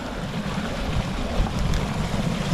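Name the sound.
backyard pond waterfall water spilling down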